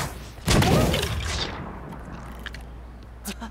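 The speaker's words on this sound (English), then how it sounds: "Cannon." A cannon fires in the LEGO Legacy video game: one sudden heavy boom with a rumbling tail that fades over a few seconds, followed by faint game sounds.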